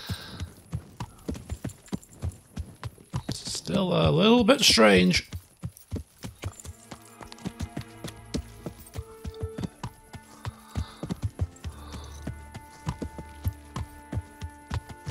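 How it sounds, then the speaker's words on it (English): Horse hooves clip-clopping at a steady riding pace in the medieval video game Kingdom Come: Deliverance, loud and rhythmic throughout, with a burst of whinnying and a low hum, while someone talks briefly. "I'm not completely confident riding horses just yet."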